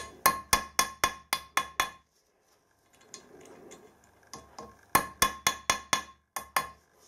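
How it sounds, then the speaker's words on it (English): Two quick runs of sharp, ringing hammer taps strike a sharpened tap to make a centre punch mark, about eight taps in each run, near and crisp, with a quiet pause of faint shuffling between them. "One needs a centre punch mark right in the middle."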